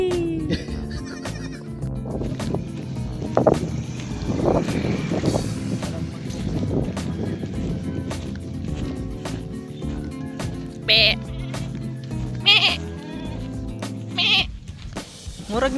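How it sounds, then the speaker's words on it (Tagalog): Siamese goats bleating outdoors, several short calls standing out over wind noise and a busy, rumbling background, with voices talking nearby. "Murag ning Siamese na kambing ay. Siamese na kambing."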